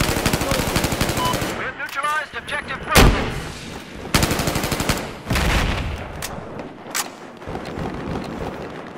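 Gunfire in the military shooter Squad: loud rapid bursts and sharp single shots crack one after another, some close and punchy, with rattling automatic fire between them and no talk over it.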